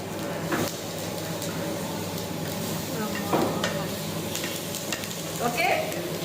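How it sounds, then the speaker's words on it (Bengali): A tomato sizzles on a hot grill as tongs press it down. The sizzle is close and continuous, with a few light metallic clicks and scrapes from the tongs. "টং দিয়ে একটুখানি চাপ দিবেন যাতে গ্রিল মার্কটা সুন্দর হয়"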